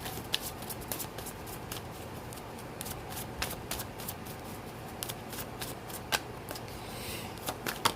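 Tarot cards being shuffled by hand, a steady run of crisp riffling and slapping with sharp card snaps scattered throughout, close and fairly quiet, with no talking.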